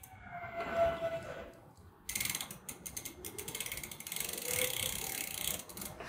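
A 15 millimetre wrench tightens bike pedals during assembly, giving a quiet, rapid metallic ratcheting that starts midway and runs in uneven bursts, close up and faint, with no voices.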